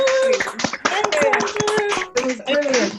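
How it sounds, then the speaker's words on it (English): An online audience on an unmuted video call claps in a scattered burst of overlapping sharp hand claps, mixed in with voices talking and cheering. "give Andrew a huge round of applause"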